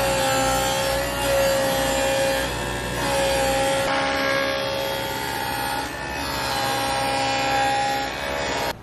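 Rough-cut lumber is machined to shape in a workshop, producing loud, sustained tonal whirring from a power saw or cutter with repeated passes that rise and dip roughly every few seconds, and no talking.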